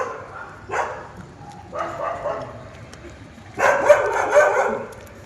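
A litter of female puppies gives short, high yips and barks in three scattered bursts, the last one louder and busier, with faint background noise between them.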